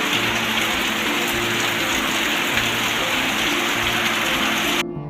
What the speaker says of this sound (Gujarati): શું વરસાદ પડે છે!